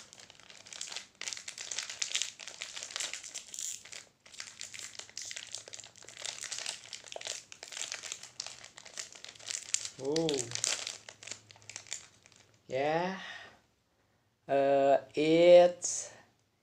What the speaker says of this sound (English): Let's open the packaging.